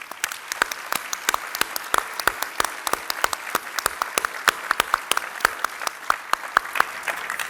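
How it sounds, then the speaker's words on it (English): Scattered but brisk clapping from an audience at a city's State of the City event, individual claps distinct and rhythmic, moderately loud throughout. "I want to give a round of applause to these fine individuals"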